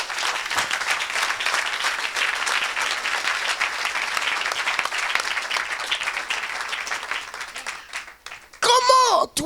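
A church audience breaks into sustained, loud applause and cheering in a large hall at an evangelical mission gathering; the clapping stays dense for several seconds before a voice cuts in at the end.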